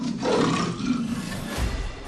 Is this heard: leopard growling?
yes